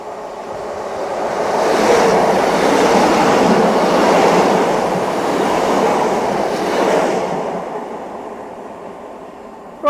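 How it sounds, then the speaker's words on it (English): A train rumbles past at Dawlish, a loud broad roar with rhythmic wheel clatter that swells, holds for several seconds, then fades away, with no talk. "Quick train as I was lining up this shot."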